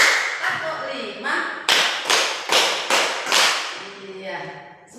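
A group of students claps in a counted routine during a practice-teaching class, delivering a short series of sharp, loud claps in quick bursts, with voices around them.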